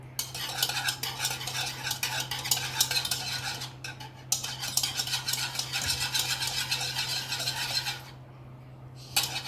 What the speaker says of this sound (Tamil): போட்டுட்டு முட்டை கூட நல்லா மிக்ஸ் பண்ணிக்கலாம்.